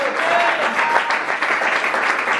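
A church congregation at a French-language worship service breaks into steady, full applause and cheering for Jesus, a dense wash of clapping that carries on throughout.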